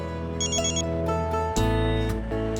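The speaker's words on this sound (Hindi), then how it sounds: "फोन आ रहा है।" A telephone rings with a repeating electronic trill, loud and close, over a sustained musical background.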